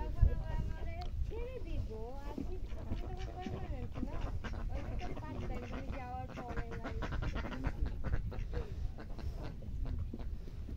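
Ducks, one drake among females, quack in a noisy cluster under an ongoing voice, their calls rising and falling over steady background rumble.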